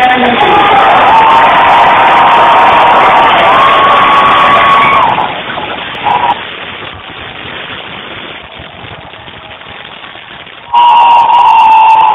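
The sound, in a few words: audience applause and cheering at a comic convention panel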